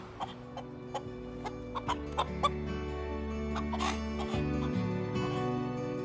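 Hens cluck in a garden in short, irregular bursts that stand out over steady soft background music.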